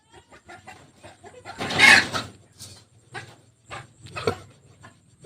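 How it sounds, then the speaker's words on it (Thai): Chickens cluck and call at a rural village home, with short bursts and one louder squawk standing out among scattered clucks, close by. "อันนี้คือไก่"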